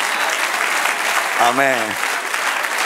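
A church congregation applauds during a sermon, steady clapping throughout with a single voice calling out briefly in the middle.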